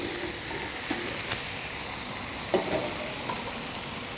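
Wagyu smash burgers sear on a flat-top Fusion griddle, giving a steady, soft sizzle and hiss throughout with a few faint clicks and scrapes, no voices.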